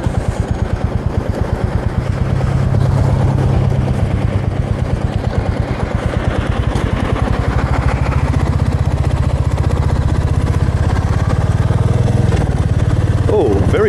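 A Royal Enfield Meteor 350 motorcycle being ridden, its single-cylinder thump steady and close, running throughout with a slight rise in revs after the first couple of seconds.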